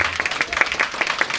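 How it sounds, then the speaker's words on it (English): Audience giving a round of applause at a community gathering, steady clapping at moderate level with a roomy, slightly muffled tone. "So let's give her a nice round of applause for her stay here"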